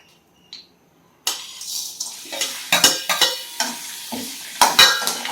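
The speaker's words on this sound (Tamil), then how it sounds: "தேங்காய் வத்தல் எல்லாத்தையுமே ஒன்றா போட்டு வறுத்துருங்க" Grated coconut and dried red chillies dry-roast in a hot pan for a yam curry. After a brief quiet start, a spatula scrapes and tosses in a series of sharp, close clatters, with no voice.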